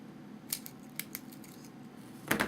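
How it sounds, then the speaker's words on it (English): A sharp razor knife trims the covering film around an edge on a Phoenix Models Sukhoi SU-31 model airplane, giving a few brief, close scratchy cuts, with a louder burst of slicing at the end. "Just take your razor knife and go around the edge of that all the way around."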